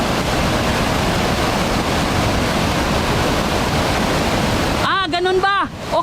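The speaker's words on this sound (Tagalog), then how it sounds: "Napakalakas ng alo ng tubig" A strong current of river water rushes as a loud, steady, dense wash of noise for several seconds, then cuts away as a voice briefly takes over at the end.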